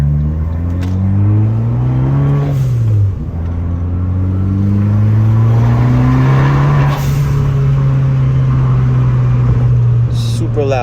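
Fiat 500 Abarth with a Turbosmart blow-off valve, a Mad Power Max chip and a short-ram cold air intake, heard up close as a loud, steady engine drone that revs, dips briefly and then climbs again.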